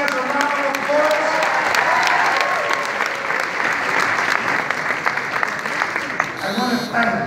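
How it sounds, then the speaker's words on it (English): An audience at a public event hosted at Mount St. Vincent applauds Bronx Borough President Ruben Diaz, steady crowd clapping lasting throughout with some voices and chatter mixed in. "Let's give our friend Borough President Diaz a round of applause."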